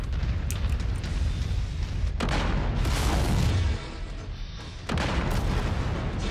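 Heavy artillery explosions in the MechWarrior 5 mech combat game, deep rumbling booms rolling one after another with a brief lull before a final blast, loud and continuous.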